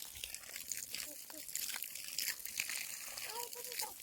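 Steady rush of irrigation water flowing into onion field beds, close and continuous, with a few faint voices speaking in the background.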